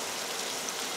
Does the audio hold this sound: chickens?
no